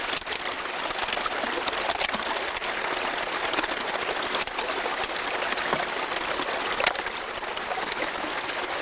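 River water rushes steadily through a gold mining sluice box on the Susan River, a constant broadband wash with small splashes and no pauses.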